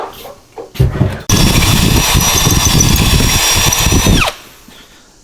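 A power drill bores holes for bolts, starting with a few short bumps and then whining loudly and steadily for about three seconds before spinning down.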